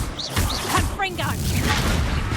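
A Confringo fire spell blast cast in Hogwarts Legacy, a burst of booming impacts over steady low rumble, with voices and shouts mixed in amid dense combat noise.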